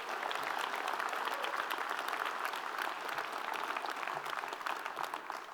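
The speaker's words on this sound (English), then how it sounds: "Let's give them a big round of applause." A crowd applauds at a community Martin Luther King holiday observance, with steady, full clapping from many people sustained throughout, fairly distant and with no talk over it.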